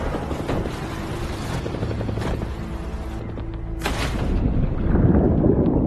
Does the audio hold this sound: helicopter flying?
yes